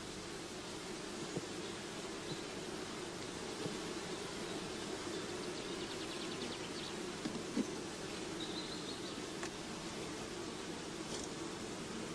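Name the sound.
honeybees buzzing at a hive colony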